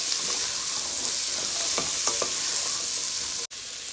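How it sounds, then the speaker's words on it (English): Asparagus sizzles and fries steadily in a hot pan, a close, constant hiss with a few faint stirring clicks. "And I'm gonna add my asparagus here now. And I'm gonna cook this until I have a nice glossy green."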